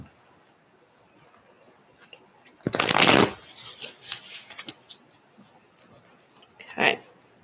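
A deck of cards is shuffled before one is drawn, with a dense close riffle burst followed by scattered lighter card slaps and shuffles.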